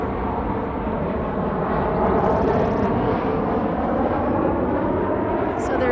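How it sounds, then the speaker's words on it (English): An airplane flying overhead in an area affected by air and noise pollution, a loud broad roar that holds steady throughout. "Oh, and there's the plane, and here's the exhaust that we were just talking about."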